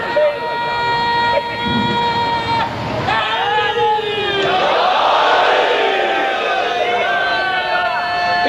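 Crowd at a Shia majlis chanting a religious slogan together, loud sustained massed voices rising in waves with a leading speaker's voice over the chanting.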